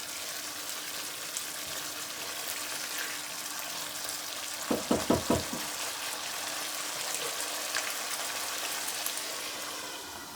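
Masala for chicken curry sizzles steadily in a pan over medium-low heat, a soft continuous crackle with a brief cluster of stirring clinks midway.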